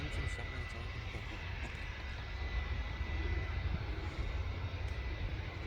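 A Jet2 airliner sits idling at Manchester Airport, its engine a steady low rumble and hiss heard from a distance, continuous and fairly quiet, with people chatting faintly in the background.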